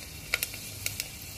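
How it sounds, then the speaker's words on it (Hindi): Asafoetida and fenugreek seeds dropped into hot oil for home-style village cooking, giving a few short, crisp crackling bursts of sizzle over a low background hiss. "तो तेल इन्होंने डाल दिया, अब डाल रही हैं हींग, मेथी का दाना"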